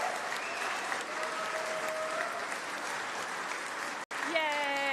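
Steady audience applause fills a gaming awards show stage, dense and even throughout, with a brief dropout near the end before a voice and whoop-like tones rise over the tail.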